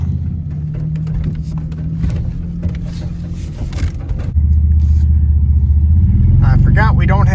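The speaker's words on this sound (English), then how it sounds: "We're gonna hook it up to the Blazer and drive over to the shop." A Chevrolet Blazer engine pulling a 1975 square body truck: a close, steady low engine rumble that deepens and gets louder midway, with someone talking over it near the end.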